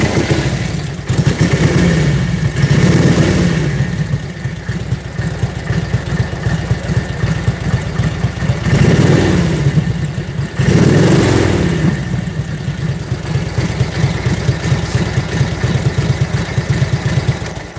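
A rare vintage Harley-Davidson 45 motorcycle engine runs close by with a steady loping idle, rising in several throttle blips and revs before settling back, with no talking.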